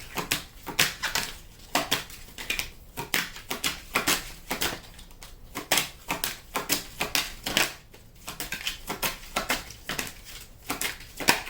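A deck of tarot cards is shuffled close up in quick repeated riffles and flicks. Sharp bursts of papery slaps come in a steady, rhythmic stream with brief pauses between passes.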